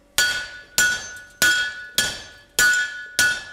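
Hammers strike a hot bar set over a hot cut hardy on a blacksmith's anvil: six sharp, ringing metallic blows, evenly spaced about every 0.6 seconds, each decaying quickly, close and loud with no talking.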